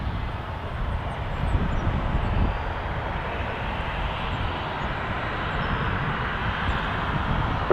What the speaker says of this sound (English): 737-800 will be lining up in a second